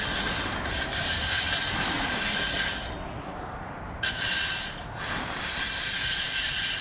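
Blowing chaff out of freshly roasted coffee beans in a flour sifter makes a loud, breathy hiss. It runs as two long blows with a short pause between them.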